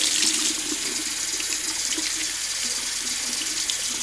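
Tap water streams steadily from a faucet over a houseplant being rinsed in a sink, a close, continuous splashing hiss with no voices.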